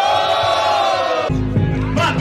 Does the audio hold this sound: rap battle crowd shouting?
yes